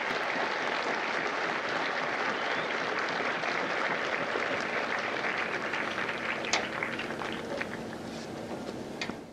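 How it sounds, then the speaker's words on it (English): Sustained applause from the audience at a U.S. Marine Corps recruit graduation at MCRD San Diego, dense and loud at first, then thinning slightly toward the end as scattered individual claps and a few shouts stand out. "Ladies and gentlemen, a round of applause for our recruiters and combat instructors"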